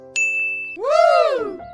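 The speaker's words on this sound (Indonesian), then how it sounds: "mereka pun mengangkat gelas masing-masing dan bersulang" Glasses clink together in a toast with a single bright, ringing ding that sustains briefly, followed by a swooping, wavering tonal sound that rises and falls before fading.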